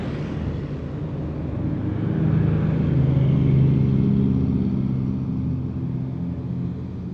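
A Budiman intercity bus passes along a road near Selagedang, its deep engine rumble swelling as it draws close and then easing off as it moves away, with no voices.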